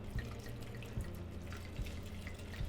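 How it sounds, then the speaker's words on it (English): Red wine pours into a pitcher over ice cubes, chopped apples and cloves, a soft steady trickle with small clinks and drips, quiet and close. "now we're gonna pour in the wine"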